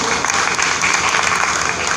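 A crowd at a community gathering honouring a long-serving cleanliness committee bursts into steady, loud applause, dense clapping sustained throughout with no pauses.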